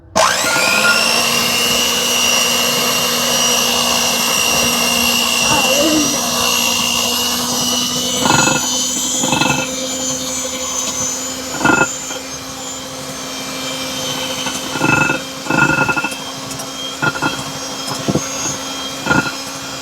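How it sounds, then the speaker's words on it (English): An electric hand mixer with kneading attachments whirs into sourdough roll dough, a loud steady motor drone that starts abruptly and runs throughout, with rhythmic knocks and bumps as the beaters work the dough. "So I'm just gonna attempt to use my hand mixer with these attachments"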